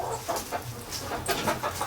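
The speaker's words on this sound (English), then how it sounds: "Doug's smelling chickens, and the chickens are freaking" Chickens in a pen cluck in short, agitated bursts at close range, their calls overlapping in quick repetition as if alarmed. The clucking continues throughout with no voices.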